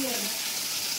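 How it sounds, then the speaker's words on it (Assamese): Oil heating in a wok for fish curry gives a steady, broad sizzling hiss, continuous and close for a brief moment. "কেৰাহীত তেল গৰম হৈ আছে"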